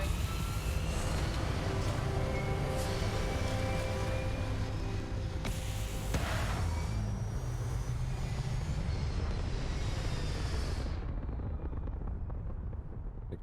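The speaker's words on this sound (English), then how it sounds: "All thrusters firing." Spaceship thrusters fire in the video game Starfield with a loud, sustained roar that holds steady and then cuts away near the end.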